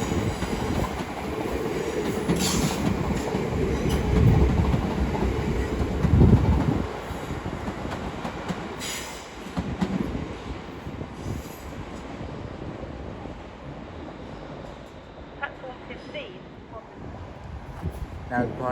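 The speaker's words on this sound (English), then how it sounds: "the 1223 London Northwestern Railway service to Birmingham New Street" A London Northwestern Railway Class 350 pair, units 350-256 and 350-129, moves through London Euston on the Birmingham New Street service, rumbling and rolling with wheel squeals and clicks under echoing station ambience, louder early and easing later.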